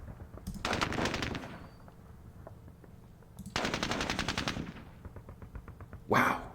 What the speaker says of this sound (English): Let's fire with machine gun. And rifle.